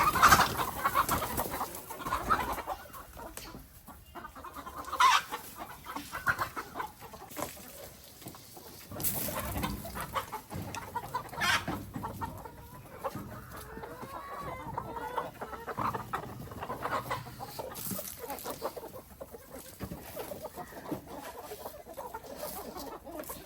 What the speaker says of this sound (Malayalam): കുറേ കോഴികളുണ്ട് ഇവിടെ